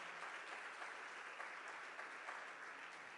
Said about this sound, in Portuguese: Vamos dar um aplauso ao Senhor por aquela igreja tão abençoada.